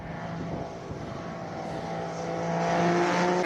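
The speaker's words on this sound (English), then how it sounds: "Watching the 3-cylinder turbo GR Yaris up the hill." A 3-cylinder turbocharged Toyota GR Yaris races up a hill climb course, its engine a steady droning roar with a clear harmonic tone that builds slightly louder as the car nears.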